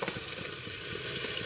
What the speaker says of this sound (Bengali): চাউলটা একটু ভেজে নেব।